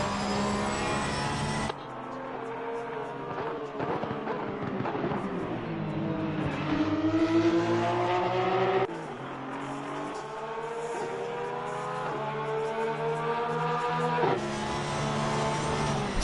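Porsche 991 race cars run at Mount Panorama during a 12-hour charity race. Loud engines whine and rise and fall in pitch as the cars accelerate, shift gears and sweep past, with a continuous roar that builds and swells throughout.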